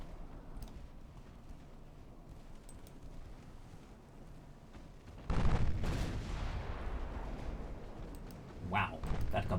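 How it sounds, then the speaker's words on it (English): Distant booms of 8-inch naval guns from a battle in the warship game Ultimate Admiral Dreadnoughts, with a louder salvo midway over a steady rumbling background and a player talking. "A flooding hit due to the 8-inch guns."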